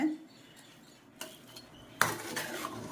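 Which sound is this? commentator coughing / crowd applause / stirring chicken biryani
stirring chicken biryani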